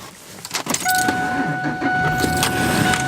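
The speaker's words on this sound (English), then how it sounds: "Whoa, that fan's loud." Blower fan roars steadily inside the cab of a small truck, loud and close with a constant whirring hum and two steady tones, and a few faint clicks and rustles on top.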